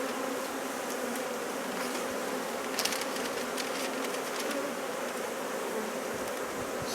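Honey bees hum in a continuous, even drone around a hive, with individual insects buzzing closer now and then against the steady outdoor swarm sound.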